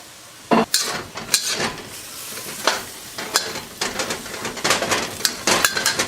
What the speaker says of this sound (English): We turn the chicken back into the wok